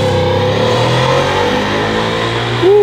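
At a cars-and-coffee meet in Mountain View, an already warmed-up car engine revs steadily and loudly up close as the car pulls away, with a sustained mid-pitched drone and no talking.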